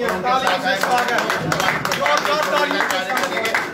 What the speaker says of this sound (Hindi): जोरदार तालियों के साथ हम सब इनका यहाँ पे स्वागत करेंगे।